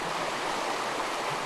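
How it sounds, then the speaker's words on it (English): A creek's running water makes a steady, dense rushing wash with no breaks, close and fairly loud, with no voices. "A creek runs through it"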